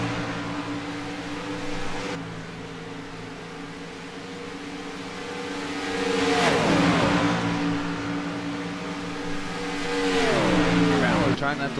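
Race cars run around a track, engines droning steadily with two loud passes whose pitch drops as they sweep by, with commentary voices over the noise.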